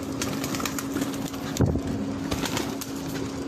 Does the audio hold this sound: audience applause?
no